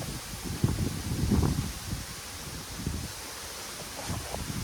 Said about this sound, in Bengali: দারুণ বাতাসের শব্দ